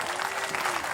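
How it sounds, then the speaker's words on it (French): Dense, continuous applause from a concert crowd, loud and sustained with a faint tonal hum running beneath the clapping. "Applaudissements, s'il vous plaît."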